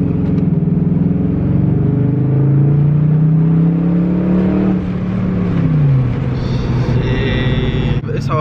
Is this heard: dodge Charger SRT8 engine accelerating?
yes